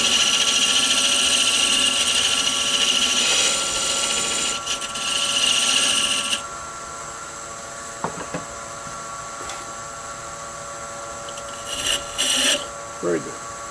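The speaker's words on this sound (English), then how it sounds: "I'll plane it down just a little bit with my skew." A skew chisel planes a spinning wooden toy wheel on a lathe, giving a loud, hissing shaving sound for about six seconds, then the lathe hums more quietly with brief scraping touches, and a person talks.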